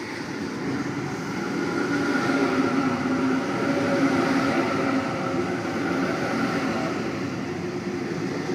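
A Sydney Waratah electric train, set A10, passing through Quakers Hill station at night toward Schofields, a continuous loud rumbling hum with motor whine that swells slightly and holds steady as it rolls by.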